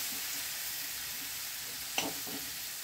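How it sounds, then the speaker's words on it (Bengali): Fish head pieces fry in spiced oil in a pan, a soft continuous sizzle with a brief stir or clatter near the end, heard quietly and alone. "আর এই মশলার সঙ্গে মাথার টুকরো দুটোও বেশ ভালো কষানো হয়ে যাবে"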